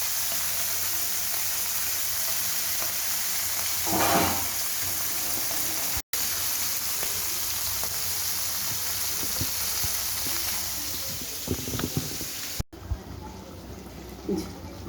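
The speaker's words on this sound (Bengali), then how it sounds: "এটা ভাজা হোক আস্তে আস্তে" Small fish frying gently in oil, a continuous close sizzle and hiss with occasional clinks and stirring bumps, a couple of sharp breaks, and a softer tail toward the end.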